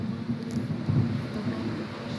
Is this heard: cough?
no